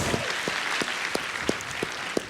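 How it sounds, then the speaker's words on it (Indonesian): Audience clapping for comedian Arif at a stand-up comedy show in Indonesia, a dense steady wash of applause with a few sharper individual claps standing out, filling the whole brief stretch. "tepuk tangan buat Arif"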